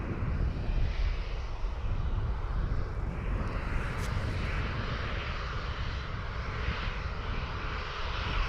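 Airliners at Dublin Airport roar with a loud, continuous engine rumble from a distance, steady throughout with no talk.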